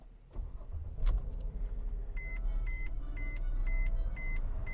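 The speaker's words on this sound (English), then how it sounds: "You can see it fires up without hesitation, runs and idles very smooth." A 2011 Mercedes GLK350 4Matic engine starts with a brief crank and settles into a steady, smooth idle, while a repeating electronic chime beeps several times over the running engine.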